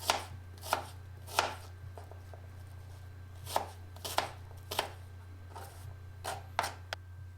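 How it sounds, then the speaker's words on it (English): Knife chopping small onions on a board in irregular sharp knocks, close and quiet, with a low steady hum in the background. "Just start by chopping up a couple of small onions."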